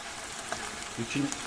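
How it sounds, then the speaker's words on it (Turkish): Chicken and saffron milk cap mushrooms fry in oil with a soft, steady sizzle and a few light clinks of stirring. "İçindeki yağ ile birlikte şu an kızartıyoruz."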